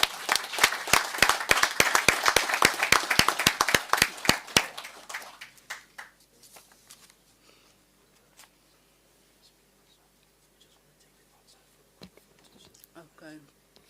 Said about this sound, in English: Let's give our fire department a round of applause.